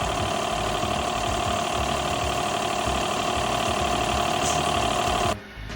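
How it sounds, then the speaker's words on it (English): A rebuilt car wash pump runs steadily and close, a loud continuous mechanical hum with a rapid knocking pulse that holds even for over five seconds before dropping off abruptly. "We're pumping, baby."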